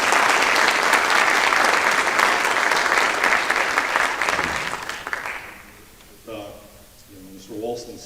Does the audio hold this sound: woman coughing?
no